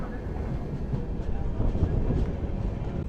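The 11301 Udyan Express rolls along on its Mumbai to Bengaluru run into Karnataka, a dense, steady rumble of wheels and carriage noise heard from on board without letup.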